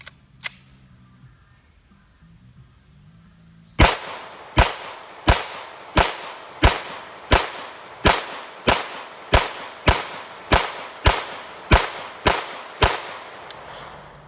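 A Para Ordnance 1911 pistol in competition setup fires about sixteen sharp gunshots in a fast, regular rhythm after a single early shot and a pause, loud and close with brief echo tails.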